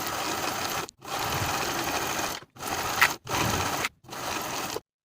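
A sewing machine stitches the center back seam of a hoodie in close, steady whirring runs, stopping briefly four times before falling silent.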